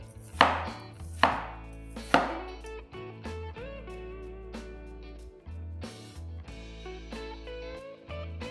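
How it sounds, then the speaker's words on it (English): A knife cuts bitter gourd into thin slices on a board, three sharp chops near the start followed by softer cuts, with music playing underneath. "Then, cut them into about half cm thick slices."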